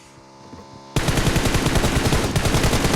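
Rapid automatic gunfire from PUBG Mobile erupts suddenly and loudly, a dense unbroken burst of shots that continues to the end.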